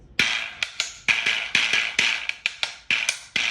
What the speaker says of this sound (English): It's the sound of rattling antelope. teeth. And it's used in Peru.